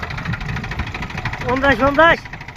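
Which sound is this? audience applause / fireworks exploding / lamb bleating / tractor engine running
tractor engine running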